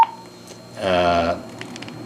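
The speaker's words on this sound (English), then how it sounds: "DTMF tones." A Motorola XTVA vehicular adapter's full-feature LCD radio mic sends a short burst of DTMF tones, stacked steady beeps lasting about half a second after a brief initial blip, clear and close with faint background hiss.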